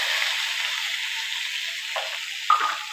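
Onions, mustard seeds, chilli and curry leaves sautéing in oil for a cluster beans dish produce a constant airy sizzle, close and moderately loud, with a brief stir or utensil tap near the end and no talking.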